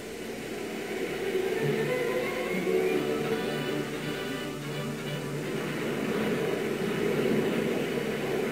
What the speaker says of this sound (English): So Johnny Train, the fly-happy clothing salesman, gets ready to take off.